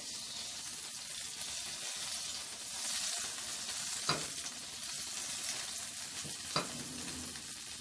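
Butter heating in a frying pan over low heat while making Pinoy hotcakes, giving a steady soft sizzle and crackle throughout, with a couple of brief sharper pops near the end.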